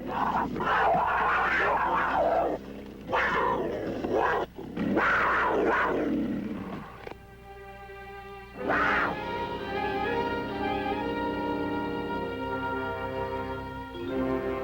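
Harsh snarls and roars from big cats clash loudly in the first half, then give way to a steadier, drawn-out growling yowl that continues to the end.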